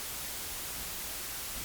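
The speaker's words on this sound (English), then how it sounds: "So this is white noise." Steady white noise plays as an even, bright hiss. It is constant and unbroken, with no voices.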